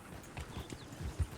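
A horse's hooves clip-clopping in Red Dead Redemption 2, a few soft, low thuds in a loose walking rhythm, faint and close.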